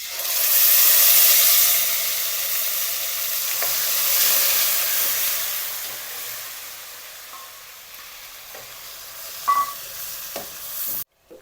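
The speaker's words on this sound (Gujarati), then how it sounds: "જીરાનો વઘાર થઈ રહ્યો છે." Cumin seeds with dried red chillies and bay leaf sizzling in hot oil for a tempering, a loud steady hiss that gradually fades, followed by a few sharp clicks and knocks near the end.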